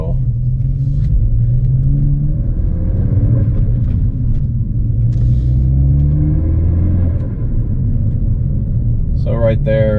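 A Ford Focus ST engine rumbles under acceleration with rising and falling engine tones inside the car, while someone talks over it.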